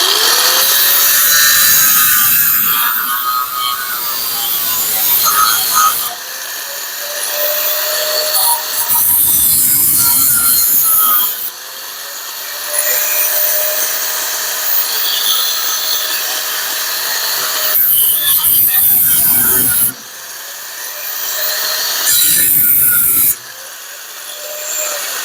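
Tail panel sheet metal on a 1975 Plymouth Duster is cut out with a power tool, a loud harsh grinding screech in long runs broken by short pauses as the tool spins down and restarts.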